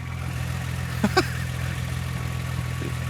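A 735 hp Nissan GT-R idles with a steady low engine hum and drone throughout, joined by a couple of brief sharp clicks or knocks near the middle.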